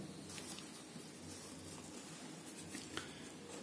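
Chalk or marker scratching steadily across a board while a maths proof is written out, a continuous soft scraping with a few sharper strokes, heard close over a low background hum.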